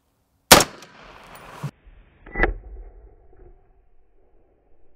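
A 7.62x39 rifle shot strikes a body armor plate with a loud, sharp crack that rings on for about a second before it cuts off. A second, softer impact thump follows, and then faint rustling.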